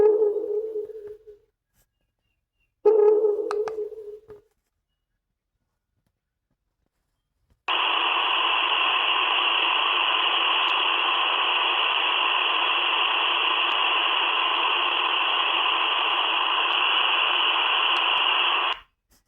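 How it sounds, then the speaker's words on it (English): Steady broadband radio static from a shortwave broadcast out of Russia hisses loudly and evenly for about eleven seconds, after two brief muffled bursts and a short silence. "broadcasts out of Russia, which to me sounded just like static. It was just white noise."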